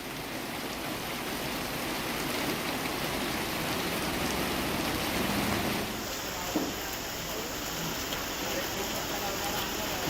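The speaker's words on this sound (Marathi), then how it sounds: "जळगाव मध्ये सुद्धा दुपारपासून पावसाची रिपरिप सुरू आहे" Steady drizzling rain in Jalgaon hisses in a broad, unbroken wash for the whole stretch, with no clear gaps between drops.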